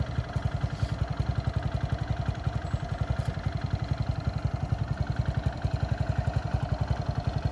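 A Honda CT70 four-speed H model motorcycle, unrestored, runs close by with a steady, rapid single-cylinder putter while it makes a slow horseshoe turn in a parking lot, no talking over it.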